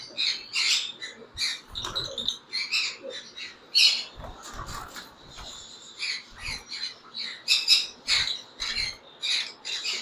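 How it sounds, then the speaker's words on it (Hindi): A green-cheeked conure breeder pair, yellow-sided, calling in a pet shop: repeated harsh squawks and chirps in close, irregular bursts throughout, with no talk. "येलो साइडेड के साथ हमारे पास ग्रीन चिक कनोर का ब्रीडर पेयर है"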